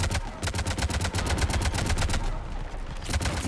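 Rapid automatic gunfire from the Mass Effect 3 video game, a loud close burst of evenly spaced shots with no gaps, heard alone with no talking.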